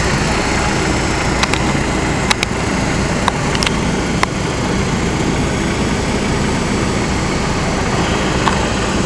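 A C-Rex engine idling steadily with a homemade intake made from shop rags and white tape, a loud continuous rumble with a few faint ticks on top.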